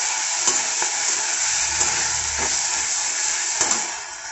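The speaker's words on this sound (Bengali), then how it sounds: "আদা রসুনটা খুব ভালো মতন কষানো হয়ে গেছে।" Ginger and garlic spice paste frying and being stirred in a pan, a steady close sizzle with a few soft scraping stirs, no voices.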